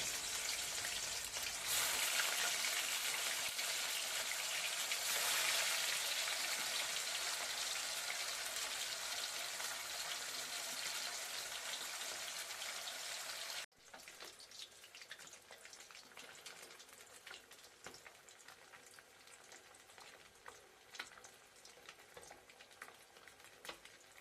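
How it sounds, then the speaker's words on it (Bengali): Catla fish frying in hot mustard oil in a wok gives a dense, fairly quiet sizzle that holds steady, then drops to a softer crackle with scattered pops partway through. "প্রথমে মাছগুলোকে ভেজে নেবো"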